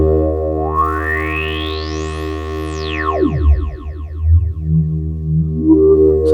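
A resonant Modal Electronics Craft Synth 2 tone with a distorted filter sweeping up and down through bright, gritty harmonics, then settling into a pulsing, buzzy drone.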